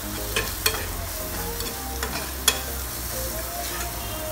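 Mango pieces with turmeric and salt stirred in a hot pan for a Rajasthani green chili pickle, a steady sizzle broken by a few sharp scrapes and clinks of the spoon against the pan, close and fairly loud.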